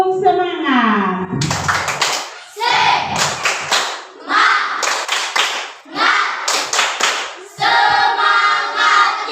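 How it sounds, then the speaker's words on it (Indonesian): A school class performs a rhythmic spirit clap, several bursts of unison clapping in patterned beats broken by short pauses, loud and close, with children's voices chanting and shouting between and over the claps. "Coba tepuk semangat."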